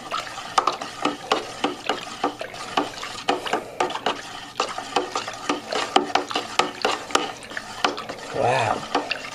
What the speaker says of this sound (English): you want to make sure you give this a good stir